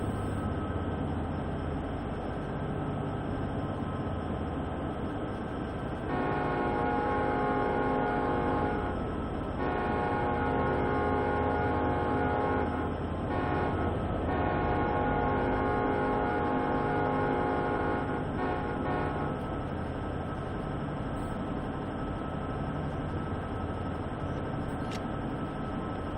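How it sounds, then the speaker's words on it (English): A Class 66 diesel locomotive engine in Train Sim World 2 drones steadily and loudly, its rumbling tone shifting in pitch partway through, with no talking. "Even though these are the Class 66 sounds, I love the prime mover on it still."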